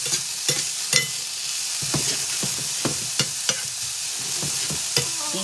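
A spoon or spatula stirs food cooking in a hot pan, a steady sizzle broken by repeated sharp scrapes and clacks against the pan at an irregular rhythm, close and fairly loud, with no talking.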